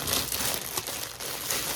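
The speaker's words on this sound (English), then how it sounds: "I'm going to put this back so it's going to be really crinkly." Crinkly plastic packaging from cross-stitch floss being handled, a dense, close crackling and rustling that runs steadily through the short moment with small bursts of louder crinkle.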